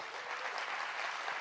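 A comedy-show audience breaks into applause, a brief steady wash of many hands clapping at even loudness for about a second and a half.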